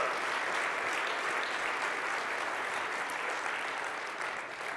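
Sustained audience applause fills a keynote hall, a dense steady wash of many hands clapping at even loudness throughout without a break.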